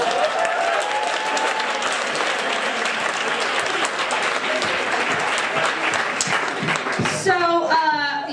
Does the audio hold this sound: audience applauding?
yes